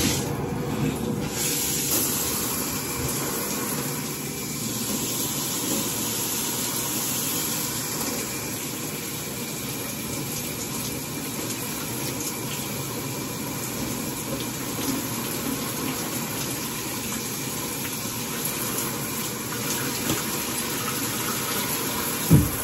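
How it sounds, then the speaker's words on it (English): A steady, close hiss of water spraying onto hair continues without a break, fairly soft and even, with a faint rattle at the very end. "So the first thing I'm gonna do is wet the hair."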